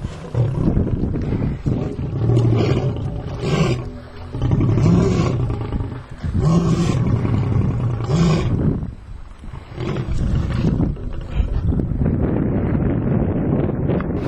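A lion in Kruger National Park gives a long series of deep, rumbling roars and grunts, close and loud, with wind buffeting the microphone throughout.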